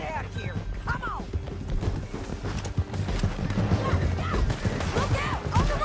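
Horse hooves clip-clop at a gallop in Red Dead Redemption 2, a busy rhythmic pounding mixed with whinnies, scattered gunfire and shouting voices.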